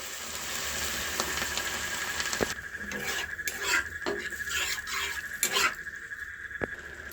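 Chana dal, boiled beforehand, goes into a cooking pan with a soft clatter of a utensil against the pan, then several scraping stirs and clinks close by, with a faint sizzle underneath and no talk.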